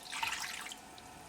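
Water poured from above into a karahi or frying pan holding sugar, a short splashy gush that tapers into a soft trickle, close and with no talk.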